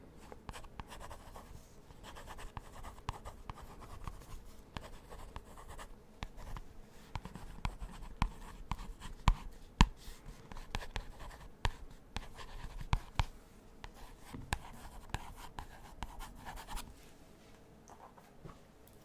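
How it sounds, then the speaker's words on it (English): A pencil scratching on paper up close, with irregular strokes and small taps as letters are written, quiet and unbroken by speech. "the sounds of just pencil on paper"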